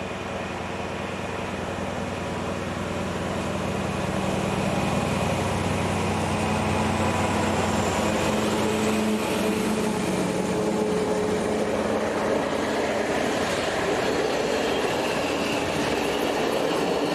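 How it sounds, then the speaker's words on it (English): A MÁV Class M43 diesel locomotive, number M4302, hauls a freight train past, with a steady rumbling engine drone and rolling wagon noise that stays loud throughout, plus faint wheel squeal. "Number M4302 is the locomotive that has been pressed into service."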